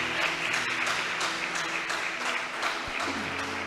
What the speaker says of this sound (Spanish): Vamos a darle un aplauso al Señor, hermanos.